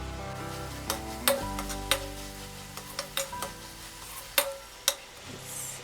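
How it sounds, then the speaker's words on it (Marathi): Ginger garlic paste frying in a pan with onion and tomato, a steady close sizzle broken by sharp clicks and scrapes of a spoon stirring against the pan, with no voices. "ही एक चमचा आलं लसूण पेस्ट परत ही आधी छान मी फ्राय करते"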